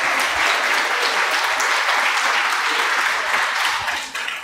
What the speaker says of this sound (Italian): Do we want to clap for them?